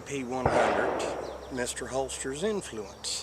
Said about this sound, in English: yes, there are people setting fireworks off down the road here.